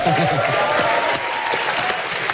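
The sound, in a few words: audience applause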